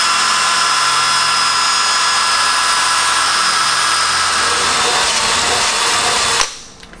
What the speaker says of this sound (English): With the pilot drill, you want to try and keep it in center line